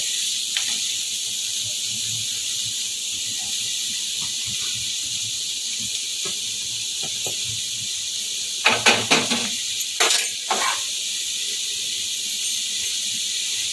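Spring onion greens and capsicum stirred in a hot pan as veg atta momo filling cooks, giving a steady broadband sizzling hiss with a few sharper scraping clatters near the end.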